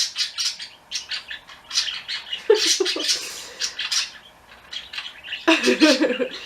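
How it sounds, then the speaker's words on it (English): Small birds chirp and squawk repeatedly outdoors, with clustered bright calls throughout and louder bursts near the middle and end. "yes, birdies, you're beautiful, I love you."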